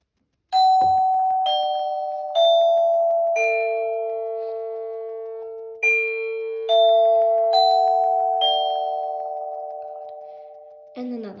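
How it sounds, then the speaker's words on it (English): A TouchTone Alert doorbell chimes in a series of clear, ringing two-tone ding-dong notes, each sustaining and decaying, repeated about eight times close to the microphone with no talking. "we'll activate the doorbell again"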